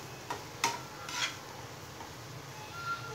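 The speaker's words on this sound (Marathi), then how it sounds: "कांदा लालसर रंग येईपर्यंत फ्राय करून घ्या।" Onion frying in a pan for kurdai bhaji, a faint steady sizzle under a few distinct spatula scrapes and clinks against the pan, quiet and close with no talking.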